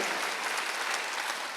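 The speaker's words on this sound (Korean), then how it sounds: "박수." Congregation applauding during a Korean Sunday church service, a steady dense wash of clapping from many hands throughout, moderately loud with no pauses.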